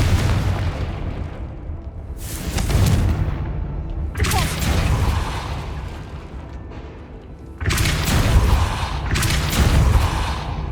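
Confringo blasting spells explode in Hogwarts Legacy as four heavy booms, arriving in pairs, each with a sharp crack that decays into a rumbling tail, loud and close with no talking.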